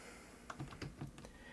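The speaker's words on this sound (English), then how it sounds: "Next, we're going to want to type in sudo smartctl" Typing a command on a computer keyboard in Linux: a short, faint run of about five quick keystrokes, close and alone with no voice.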